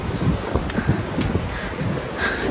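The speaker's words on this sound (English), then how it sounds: "That's the wind sound." Strong wind gusting outdoors on a very windy day, a continuous loud rushing roar buffeting the microphone, with no talking.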